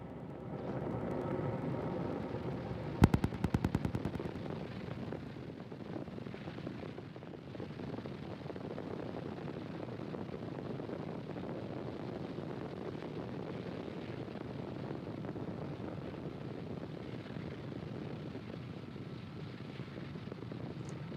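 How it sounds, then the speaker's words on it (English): A SpaceX Falcon 9 launch carrying Starlink satellites, heard as a deep, continuous distant rumble with wind-like roaring that holds steady, broken near the start by a brief burst of sharp crackling, with no voices. "Falcon 9 has successfully lifted off"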